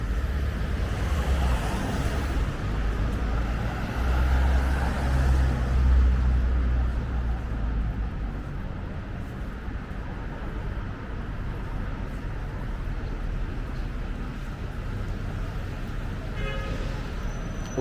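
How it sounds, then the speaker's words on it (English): London street traffic near a private garden on Phillimore Gardens, a steady roar of passing cars and buses with an occasional horn toot, heavier at first and then settling into a constant wash of road noise. "enjoy the din of the traffic"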